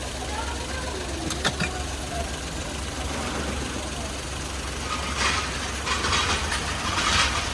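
Engine of a Suzuki car running after an overhaul, heard as a steady, fairly loud hum with some mechanical ticking and a few faint clicks, with no speech.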